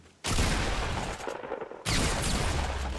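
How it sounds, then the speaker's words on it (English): Loud pump shotgun blasts in a first-person shooter game: one booming shot that decays, then a second heavy blast about a second and a half later, with no talking. "got another pump shot"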